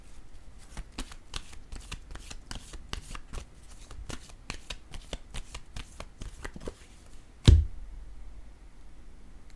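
A deck of tarot cards riffles in a steady run of quick, soft, papery flicks, then a single sharp thump as a card lands. Near and fairly quiet.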